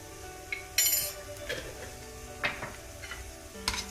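A spoon stirs jeera, garam masala and dhania powders into frying onions in a pot for mutton curry: soft scraping strokes and light clinks over a low, steady sizzle.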